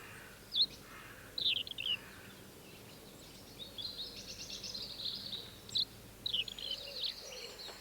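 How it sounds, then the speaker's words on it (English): Garden birds feeding and tending their young give scattered, sharp chirps and twittering calls, faint to moderate, over a quiet background with insect-like hiss. "the gardens are busy with the bustle of birds feeding and caring for their young"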